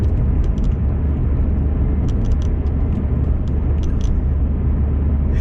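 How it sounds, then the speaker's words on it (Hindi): An airplane comes in to land nearby, a steady, loud, low roar that fills the whole stretch without letting up, with faint higher ticks on top. "तो देखो जहाज भी आ गया"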